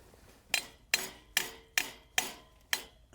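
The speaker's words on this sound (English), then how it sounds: "I'm gonna hammer it down." A hammer drives a stake into the ground outdoors, with six sharp, evenly spaced blows about half a second apart, close and alone.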